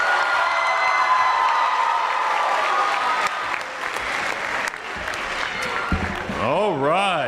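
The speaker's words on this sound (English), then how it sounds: "Let's give one more round of applause to Central High School." Applause from an awards-ceremony audience honoring Central High School: a loud, sustained wash of clapping with some cheering that thins midway, followed by a person beginning to speak near the end.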